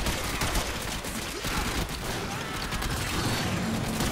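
Rapid automatic fire from the Prisma Gorgon gun in the game Warframe, a dense unbroken stream of mechanical shots at moderate loudness, continuous with no pauses.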